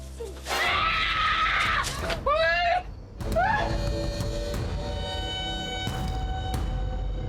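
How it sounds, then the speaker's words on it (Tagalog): A woman's high, piercing scream bursts out loud and close, with rising, shrill cries repeated over roughly the first three seconds before fading into room noise, ahead of a Filipino TV drama scene. "OA naman sumigaw nito."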